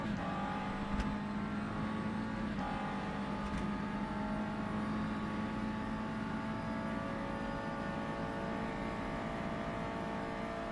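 Race car engine pulling hard down a back straight in the rFactor 2 racing game, a steady droning engine tone with gradually climbing harmonics, continuous and evenly loud throughout, with no voices.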